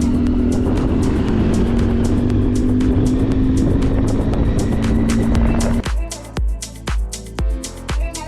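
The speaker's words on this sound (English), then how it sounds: "I got a car coming, so I thought I'd just get out of his way." A car drives along a dusty outback road, a steady loud engine drone with a constant tone that cuts off abruptly near the end, leaving rhythmic thumps and clatter from the moving vehicle.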